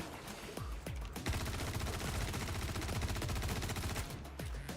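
Sustained automatic gunfire in Star Citizen, a rapid, even stream of shots that fires almost without pause, with a few single shots before and after the long burst.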